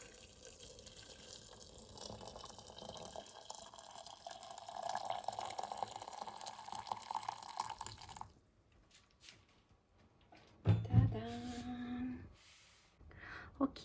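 Water pours steadily into a cup of tea with ginger and cinnamon, a soft continuous trickle that stops abruptly, followed by a few brief clinks and handling sounds.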